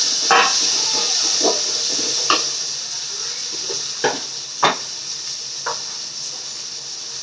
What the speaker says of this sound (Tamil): அதான் வெங்காயம் வதங்கிச்சு, தக்காளி போட்டுக்கலாம்.